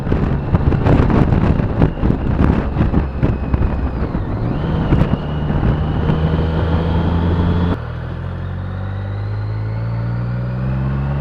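Strong, buffeting wind roar and rumble fill the ride on a motorcycle through the Peak District in the UK, loud and close throughout, dropping to a steadier, lower drone in the last few seconds.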